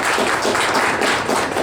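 Applause for director Luiz Gonzaga dos Santos at a book launch: a steady wash of clapping from a crowd, loud and even, with no voices over it.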